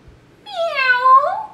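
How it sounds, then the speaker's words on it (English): A single drawn-out cat meow, clear and fairly close, rising then falling over about a second with no other sound around it. "Can you make a sound like a cat?"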